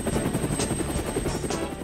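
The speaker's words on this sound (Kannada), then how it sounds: "ಅಯ್ಯೋ ಇಂಜಿನ್ ಯಾಕೋ ಸ್ಟಾರ್ಟ್ ಮಾಡಿದೆ" A cartoon helicopter engine starts up in an animated Motu Patlu episode: a brief, loud, rhythmic pulsing drone with quick chopping beats.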